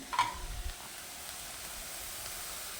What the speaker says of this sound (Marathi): 2च मिरची घेतलेले, 2 ते 3 मिनटं परतून घ्यायचं